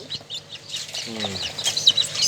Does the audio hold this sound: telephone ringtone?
no